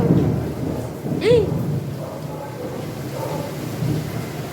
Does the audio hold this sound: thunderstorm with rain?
yes